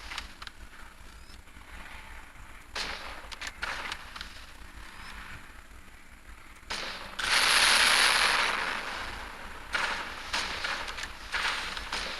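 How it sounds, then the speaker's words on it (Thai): Grenade launcher fire in the zombie shooter game Zombie Gunship Survival, heard as a run of loud booming shots and explosions with a dense burst of blast noise midway, no talking. "เพราะมันเป็นปืนยิงลูกระเบิด ค่อนข้างจะมีปืนที่ ดาเมจของปืนมันแรงอยู่แล้ว"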